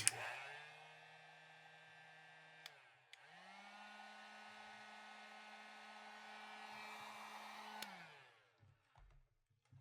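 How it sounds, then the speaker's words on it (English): A heat gun blows steadily on an RDA vape tip, a loud continuous whine and rush that cuts out briefly, restarts and runs for several seconds before switching off, with no talking. "Let's go ahead and hit it with the heat gun again."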